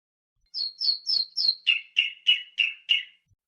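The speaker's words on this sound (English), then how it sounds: "He sat on a low stone wall and met Darzee, the tailor bird, and his wife." A tailor bird calls in a garden with a clear series of about nine bright, evenly spaced chirps. The first four are higher and the rest drop slightly lower, heard close and alone against silence.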